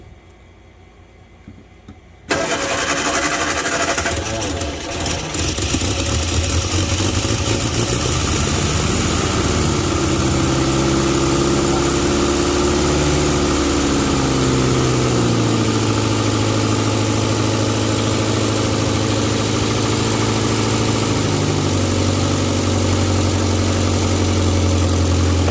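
A 1959 Morris Minor Traveller woody station wagon, a tired barn find, cranks and fires up loudly inside a garage, then settles into a steady, close idle whose pitch slowly drops and evens out.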